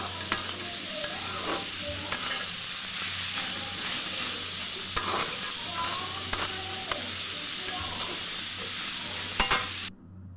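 Leafy shak greens fry in a pan with a constant bright sizzle and hiss, as a spoon scrapes and stirs at irregular intervals before the sound cuts off abruptly near the end.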